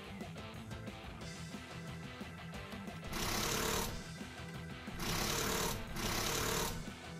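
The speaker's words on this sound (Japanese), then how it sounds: "最後は車輪ドリルだ。" A Shinkalion toy robot's wheel drill attack plays as a sound effect, a harsh whirring, grinding buzz in three loud bursts separated by short gaps, over quieter background noise.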